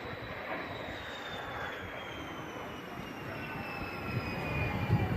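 At an air show, an aerobatic airplane accelerates away while climbing, its engine drone gradually falling in pitch and receding, with a distant commentator voice faintly underneath.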